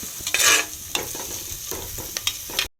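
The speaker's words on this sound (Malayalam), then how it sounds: "സവാള നന്നായിട്ട് നമുക്ക് വഴറ്റിയെടുക്കാം" Onions sautéing in oil with cinnamon, cloves and cardamom for tomato rice, a close sizzle with scraping stirs, one louder burst early on and spoon strokes recurring until it cuts off.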